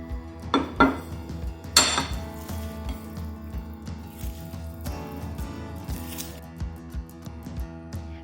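Atho ingredients and eggs being mixed in a pan at a North Chennai Burmese street food stall, with repeated clanking and scraping of a utensil against the metal in a steady rhythm amid clinks and background bustle.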